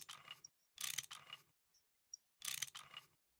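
A wrench clicks repeatedly against a pipe in Minecraft with the GregTech 6 mod, coming as short mechanical ratcheting bursts separated by silent gaps, clear and close with nobody talking over them.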